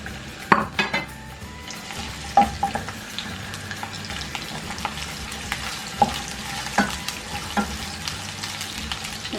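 Chopped onion frying in oil in a pan for a tori (ridge gourd) sabzi, a steady close sizzle broken by sharp clanks and scrapes of a spoon stirring against the pan.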